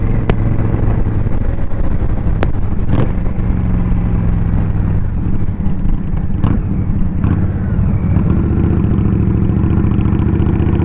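A 2023 Indian Scout Rogue motorcycle being ridden, its engine droning steadily and loudly up close throughout, with a continuous low rumble, some clattering, and a few sharp transient clicks.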